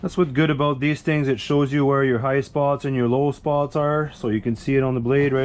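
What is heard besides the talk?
No distinct noise like a dog, phone or traffic.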